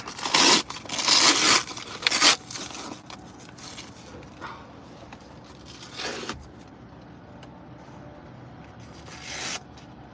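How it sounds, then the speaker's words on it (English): Velcro straps on a plate carrier rip loudly in a few rough tearing bursts as the vest is pulled off inside a car, followed by quieter rustling and another sharp rip near the end. "I'm gonna take this fucking plate carrier off."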